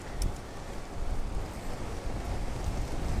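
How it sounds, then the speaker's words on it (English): Strong wind roars and buffets the microphone during a winter bicycle commute to work, a constant loud rushing noise throughout with no speech. "wow, a lot of wind"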